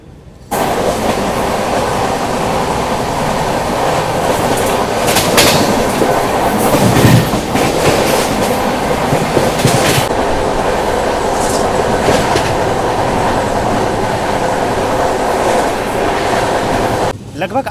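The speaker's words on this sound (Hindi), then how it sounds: "प्रतापगढ़ के पिट लाइन में देखिए प्रतापगढ़ के आन बान शान पद्मावत एक्सप्रेस" Padmavat Express train standing and moving in the Pratapgarh pit line, a steady loud rumble of rail wagons with rhythmic clickety-clack of wheels and brief squeals, continuous and close throughout.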